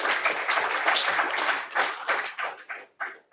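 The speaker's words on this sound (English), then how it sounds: "Let's have another round of applause for Dean Caton's presentation" Audience at a conference presentation breaks into dense applause, steady for a second and a half and then thinning into scattered claps that trail off toward the end.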